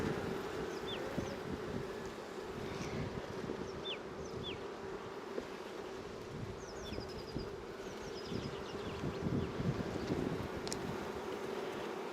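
Steady, dense buzzing of a large honeybee colony at an open hive during inspection, a continuous close hum with scattered individual bees passing, light wind noise and no talking.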